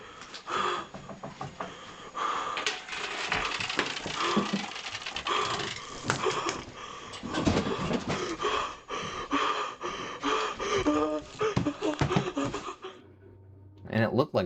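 Heavy, ragged breathing from a scary video comes in repeated gasping pulses and snorts, fairly close and uneven, with a brief pause and muffled sounds near the end.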